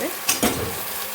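Leafy greens (shak) frying in a pan are stirred with a couple of quick scraping strokes over a steady sizzle, close and fairly quiet.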